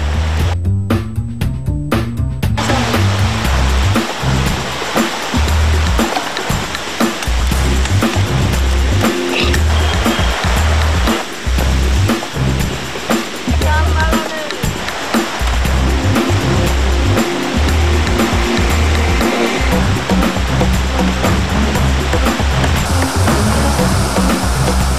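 A large river rushes past in a loud, steady broadband wash of flowing water, continuous throughout with a brief rhythmic clatter at the start.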